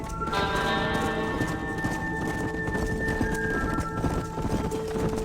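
Video game sound: hooves clip-clop steadily as several horses move along, with a horse neighing near the start and a low rumbling bed throughout.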